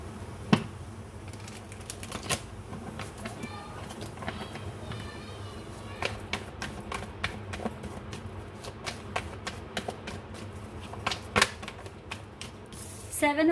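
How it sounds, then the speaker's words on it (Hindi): Tarot cards being handled and drawn from a deck, a run of soft, sparse taps and flicks with a few sharper snaps, close and quiet against a faint background hum. "तो अभी के लिए मैं कुछ और कार्ड्स निकाल लेती हूँ, ठीक है, टैरोट से"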